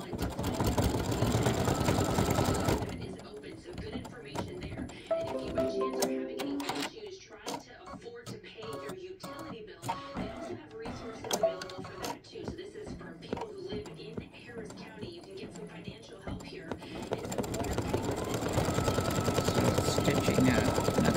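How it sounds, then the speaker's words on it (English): A home embroidery machine stitching a flamingo sunglasses design, its needle hammering in a fast, steady mechanical rhythm, with louder broadband noise at the start and end. "So it just finished stitching the center"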